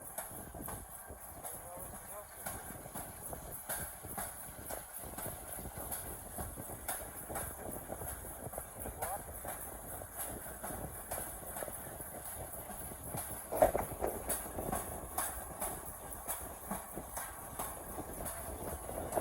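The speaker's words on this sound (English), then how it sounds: "we're currently just out here riding the rails" A rail bike rolls along old railway tracks, the former Southern Railway Versailles district line built in the 1800s, heading toward the Kentucky River. There is a continuous low rumble with faint, irregular clicks, one sharper knock partway through, and soft voices at times.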